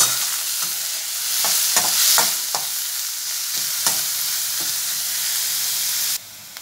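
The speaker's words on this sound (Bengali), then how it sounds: "পেঁয়াজটা ভেজে নেব।" Finely chopped onions fry in hot oil after whole spices, a bright, steady sizzle close up, broken by repeated scraping clicks of stirring before the sound cuts off abruptly near the end.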